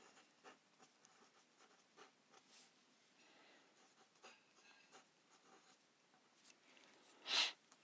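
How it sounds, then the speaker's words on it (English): A pattern rule being written by hand, with faint scratchy strokes in an irregular rhythm, quiet and close, ending in one brief louder scrape. "I'm going to write that as an actual pattern rule"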